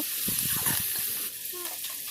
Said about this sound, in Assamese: এতিয়া এইখিনি ভালকৈ ভাজি ল'ম আৰু ইয়াতে দিছোঁ হালধি